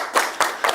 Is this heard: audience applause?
yes